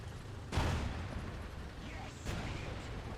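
Tank cannon fire in the video game War Thunder, aimed at a Tiger tank: two heavy booming shots about two seconds apart over a steady background rumble.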